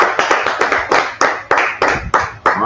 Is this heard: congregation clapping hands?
yes